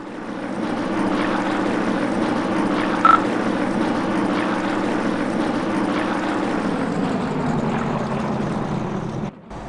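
A steady, droning P-47 fighter propeller engine in a video game hums continuously at an even pitch, fairly loud and unchanging, with a brief click near the end.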